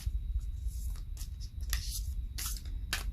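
A deck of tarot cards shuffled by hand close up, giving quiet, brief riffling and sliding bursts separated by short pauses.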